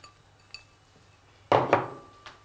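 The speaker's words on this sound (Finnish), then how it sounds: "Että lisätään makkaraviipaleet vuokaan." Sausage slices dropped into a greased baking dish for a sausage casserole, giving a loud clattering clink against the dish at once, then a fainter tap, with a couple of soft knocks before.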